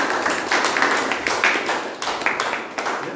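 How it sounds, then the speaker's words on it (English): Applause from a Toastmasters club meeting audience for the general evaluator, a short burst of many hands clapping at close range that rises and then thins out over about three seconds. "Big round of applause for the general evaluator."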